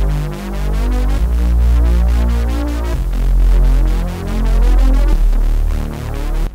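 Synth bass patch built on the Ableton Drift synthesizer, a loud, continuous low throbbing tone with pulsing modulation swells repeating every second or so, alone with no voices.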